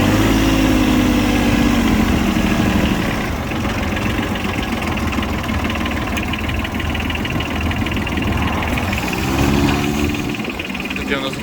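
A Mitsubishi MTX15 four-wheel-drive mini tractor engine runs steadily and loud throughout, a low mechanical chug with a rougher, knocking edge.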